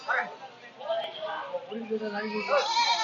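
Goats bleating at a goat and sheep distribution centre in Ettayapuram, with calls rising over continuous talk from people nearby.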